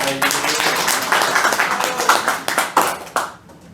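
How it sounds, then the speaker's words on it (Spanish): A small finance class applauding a student, a short round of close, uneven hand clapping that thins to a few final claps and then stops. "un aplauso para el"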